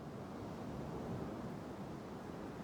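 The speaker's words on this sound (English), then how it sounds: "definitely a bit of a windy day here" Steady wind blowing outdoors in the video game Life is Strange, a constant broad rushing noise at moderate level with no talk and no distinct gusts.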